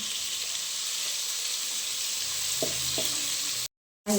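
Masala being fried in oil in a pan for a fish curry, giving a steady moderate sizzle with a couple of faint clinks, then cutting off abruptly near the end.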